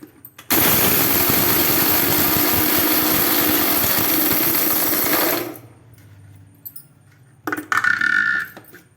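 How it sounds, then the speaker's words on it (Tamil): A mixer grinder milling chana dal for idli podi, a loud dense whirring roar with rattling grains for about five seconds, then it stops, followed by quieter handling and a brief second burst. "அடுத்து பருப்பு திரிக்க போகிறேன். கடலைப்பருப்பு,"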